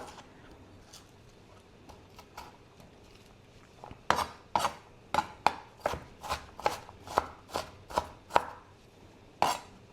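Knife chopping onions on a cutting board for an Italian pasta salad: a run of about a dozen sharp, close, evenly spaced chops after a few quieter taps, with no talking.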